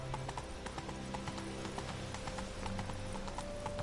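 Horse hooves clip-clopping at a steady walking rhythm in The Witcher 3 video game, with game music and ambience underneath, fairly quiet and without speech.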